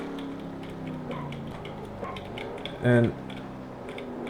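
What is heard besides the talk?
clicking computer keyboard keys to steer in NR2003 racing game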